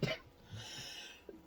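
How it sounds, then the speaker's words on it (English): One short cough bursts out at the start, then a faint breathy sound and a small throat noise close to the microphone, with a quiet room otherwise. "I really wish I could stop coughing."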